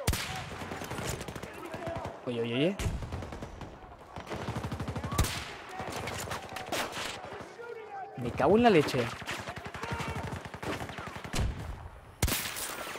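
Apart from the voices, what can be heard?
sniper gunfire in video game Battlefield 2042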